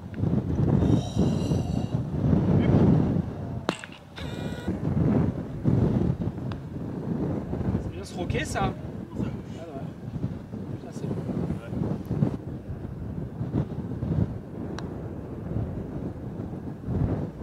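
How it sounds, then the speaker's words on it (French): Gusty wind roars across an open golf course during a pro-am round, a steady broadband rush with stronger swells and occasional louder gusts, while players talk over it. "le vent se renforce"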